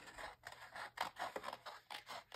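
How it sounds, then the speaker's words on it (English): Fine-tip scissors cut around the edge of a paper pattern, with quiet, close snips and scraping blade strokes repeating in an irregular rhythm. "I'm going to use my fine tip scissors and just go around the edge of this pattern"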